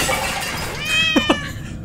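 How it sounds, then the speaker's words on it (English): A cat in the horror video game Summer of 58 gives two short, sharp meows close by, following a few faint whining tones over quiet background ambience. "Oh, the cat!"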